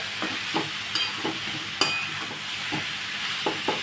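Spiny gourd (kantola) vegetable is stirred in a hot pan, with repeated scraping strokes of a spatula over a steady background sizzle, close and fairly loud, with no talking.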